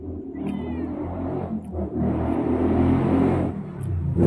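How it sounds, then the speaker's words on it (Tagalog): Motorcycles with loud mufflers pass on a busy street, a rising and falling engine roar building to a sustained close rumble, with a cat meowing faintly early on. "Hataw ang ingay, tapos yung muffler nila ang ingay."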